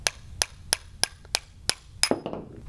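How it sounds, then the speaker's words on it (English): A hammer taps a steel punch seven times in an even rhythm to drive out a bearing from a Zipp bicycle hub, crisp metallic clicks close up, with a softer clatter as the bearing comes free at the end. "So you just take a standard punch and a hammer."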